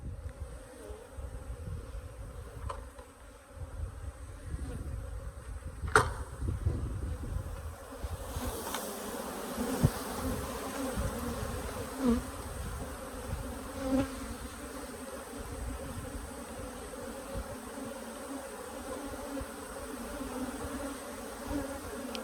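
Honey bees buzz at an open hive, a dense, continuous close-up drone that swells and fades as bees move around, with occasional knocks and rustles from frames being handled.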